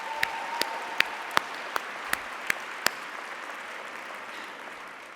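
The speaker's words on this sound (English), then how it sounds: "Let's give her another round of applause." Sparse applause at an awards gala: about eight separate, evenly spaced claps, quiet and slightly distant, then trailing off into a soft room hush.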